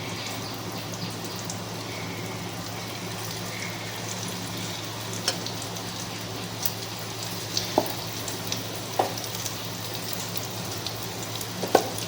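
Rohu fish roe fries in a hot kadai with a constant dense crackle like rain. Scattered sharper pops come through close and clear, and no voices are heard.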